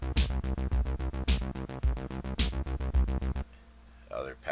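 Korg Kaossilator synthesizer set to rhythm gate pattern zero, a steady loud stream of evenly pulsed electronic notes with thumping low hits for about three seconds, then dropping away to quieter leftover sound.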